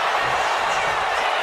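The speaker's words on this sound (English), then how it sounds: "drawing a big reaction from the crowd" A video game arena crowd in WWE 2K25 gives a loud, dense roar of reaction during a tag team match, a steady wash of noise filling the short moment.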